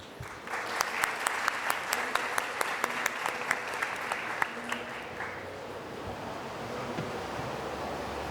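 Applause from the audience at the XI Feria Minera y Expometálica 2015 mining fair in an event hall, with sharp individual claps standing out over broad crowd clapping that fades after a few seconds into room murmur.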